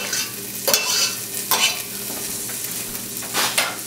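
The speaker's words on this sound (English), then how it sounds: "And let that saute for an additional couple of minutes." Chopped garlic sautéing with translucent onions in a pan gives a steady, moderate sizzle, broken by a few sharp scraping bursts as the mix is stirred.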